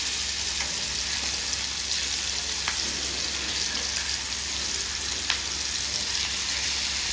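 Fish shallow-frying in hot oil for a crispy, spicy homemade fry: a steady, even hiss and sizzle with occasional faint pops. It plays alone, with no talking.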